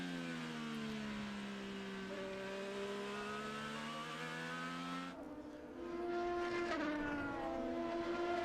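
IndyCar race cars at the Indianapolis road course scream past in a loud high-pitched engine whine that sweeps down in pitch, then a second car roars through with rising revs, continuous and close.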